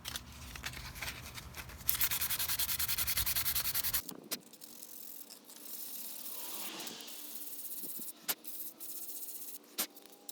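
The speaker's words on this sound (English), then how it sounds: "make sure you're not sanding the part that's exposed" Hand sanding on cured epoxy glue joining a motorcycle fender extension, a close, raspy rubbing in quick rhythmic strokes that stop abruptly midway, followed by quieter intermittent scrapes and light handling noises.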